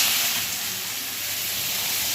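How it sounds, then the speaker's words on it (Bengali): Black cumin seeds sizzle in hot oil as a tempering for a fish curry, with lentil dumplings already fried in the pan. A loud, steady, close hiss of frying continues throughout with no pauses. "একটু কালো জিরে ফোড়ন দিলাম"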